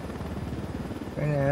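A helicopter in the video game Ghost Recon Wildlands gives off a steady, throbbing rotor chop that grows louder near the end, with a voice speaking over it.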